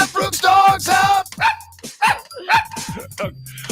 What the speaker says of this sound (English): you got a Brooks Besties theme song